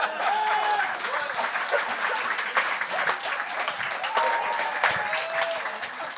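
Studio audience applauding steadily throughout at a televised talent-contest show, a dense wash of clapping with a few brief tonal whistles or cheers mixed in.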